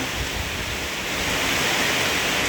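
Rain keeps falling on a durian orchard in Buriram, Thailand, a loud unbroken rushing hiss with no other sounds standing out.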